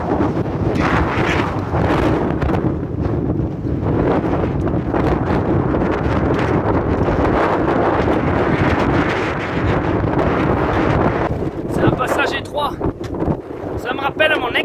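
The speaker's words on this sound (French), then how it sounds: "Là je passe dans une sorte de col, donc je suis vraiment dans un couloir venteux." Strong wind rushes through a narrow mountain pass on the GR 367 trail, buffeting the microphone in loud, gusting roars that continue throughout with no talk.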